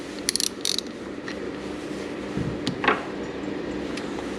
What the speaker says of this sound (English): Slightly turn it over, and it should rotate the gears until it slides in.